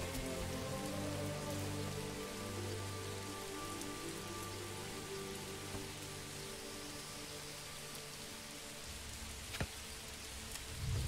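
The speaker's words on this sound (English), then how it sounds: "It's raining, so we get to see some weather." Rain falls steadily over a medieval woodland hamlet in the video game Manor Lords, a quiet continuous wash of drops with faint low background tones and no talking.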